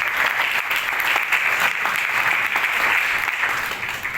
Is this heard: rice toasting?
no